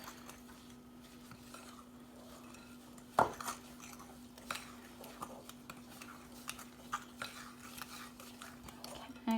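Fork stirring heavy chocolate chip cookie dough in a bowl, soft scraping with a few sharp clinks against the bowl, a steady hum beneath, no talk.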